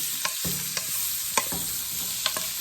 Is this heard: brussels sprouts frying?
yes